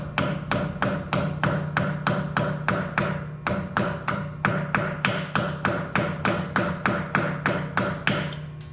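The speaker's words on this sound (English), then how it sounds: "I'm going to use my little hammer." A small hammer taps a wheel weight onto a tire rim in a steady run of about two dozen sharp, even knocks, close and clear with no talk.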